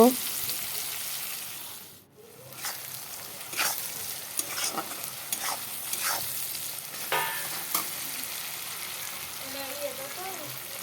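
Onions sizzle steadily in a hot pan for a curry, with intermittent scraping strokes of a spatula stirring them throughout; a brief dip in the frying noise occurs early on.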